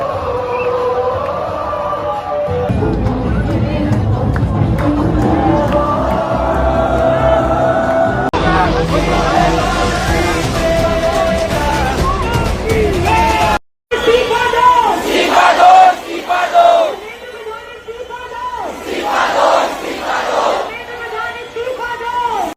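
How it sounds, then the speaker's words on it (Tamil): Large crowd of students chanting protest slogans against Modi at Jantar Mantar, with loud, rhythmic collective shouting in waves and a reporter talking over the chants. "இந்த முறை நரேந்திர மோடி கத்தி சோடோ என்கிற இந்த கரகோஷம்"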